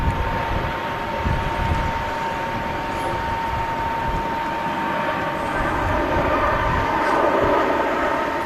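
A shuttle airliner takes off from Manchester Airport, its jet engines giving a broad, steady roar heard from a distance. The sound holds throughout with a faint whine on top and no speech.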